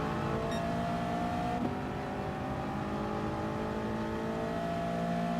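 Racing car engines roar steadily in Gran Turismo Sport at Spa, with a McLaren pulling away; a continuous loud engine drone with shifting pitch and one brief gear-change blip, no talking.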